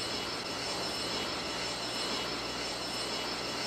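An airliner with only one working engine flies at critically low speed in the Airline Commander mobile flight game. A steady, loud engine roar fills the whole stretch without pause or change.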